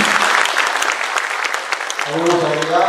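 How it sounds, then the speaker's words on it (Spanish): Audience applause, a dense wash of clapping that rings out on its own before a voice begins speaking under it toward the end. "fuerte aplauso"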